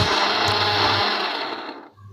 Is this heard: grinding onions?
yes